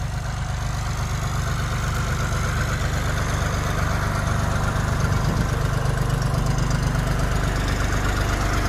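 A small John Deere tractor engine of an older era idles at a farm auction with a steady, unbroken low rumble that stays even throughout.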